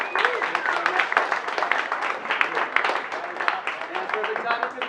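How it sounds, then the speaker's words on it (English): An audience at a gathering in a brewery gives a round of applause for a guest speaker, a deputy state treasurer, with continuous scattered clapping and voices mixed in. "Another round of applause for our guest"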